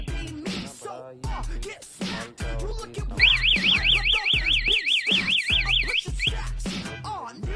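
Motorbike remote-lock security alarm sounding, a loud rapid warbling electronic wail lasting about three seconds amid handling clicks and taps nearby.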